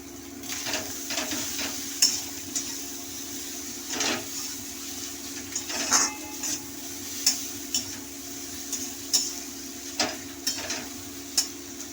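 Fish roe masala, coloured with red chilli powder, is stirred and sautéed in a pan: a steady low sizzle runs underneath while a spoon scrapes and knocks in repeated strokes about every second, close by and with no talking.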